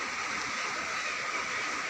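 Water running in the Taruni stream in Nepal, a steady close rushing and bubbling wash filling the short stretch at moderate loudness.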